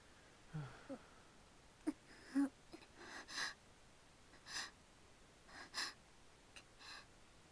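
Faint, irregular snoring breaths from a sleeping girlfriend in The Fruit of Grisaia visual novel, soft snorts and wheezy inhales spaced a second or so apart over near silence.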